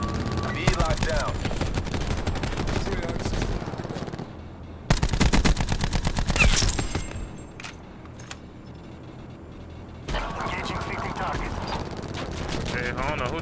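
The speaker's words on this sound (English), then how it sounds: "Who is getting shot at over here?" Automatic gunfire rattles in Call of Duty Black Ops 4, long bursts with short gaps between them and fainter shots in the background.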